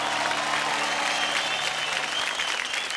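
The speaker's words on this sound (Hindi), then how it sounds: "जोर से तालियां सबके लिए" A studio audience at a televised dance competition show applauds loudly and continuously, a dense wash of clapping from a crowd with faint cheering mixed in.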